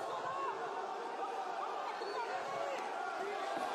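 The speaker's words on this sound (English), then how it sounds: "Hear the chants of Aldo from the crowd in Fortaleza." A fight crowd in Fortaleza chants for José Aldo during his bout with Moicano: a continuous, fairly distant wash of massed voices in a large arena, with a steady roar and no clear breaks.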